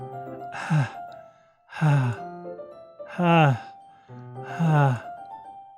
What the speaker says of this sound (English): Sounds like breathing. A sharp inhale, like someone is sucking the air through their teeth.